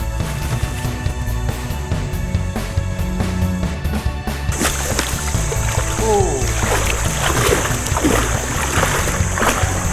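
Water splashes and sloshes as someone takes a dip in a forest pool, with close, irregular splatters over steady flowing water that grow busier in the second half.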